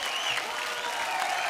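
Studio audience applause on a comedy show, a brief, steady, moderately loud wash of clapping hands with no letup.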